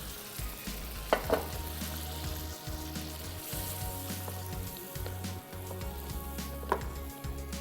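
Ingredients for hazelnut mousse roast in a hot pan with a continuous soft sizzle, broken by a few brief scraping or tapping sounds from stirring, moderately quiet and without speech.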